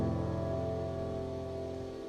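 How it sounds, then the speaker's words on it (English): Piano notes played through a high-pass filter plugin set to 300 Hz, sustained harmonic tones with the low end thinned out, heard alone and fairly quiet. "my piano is going to sound like this."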